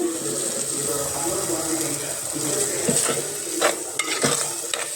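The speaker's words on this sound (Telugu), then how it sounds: "మళ్ళీ ఒకసారి కలుపుకుంటున్నాను." Village-style fish curry being stirred in a pan, with soft scraping and clinking of a utensil against the pan over a low sizzle, a few sharper clicks near the end.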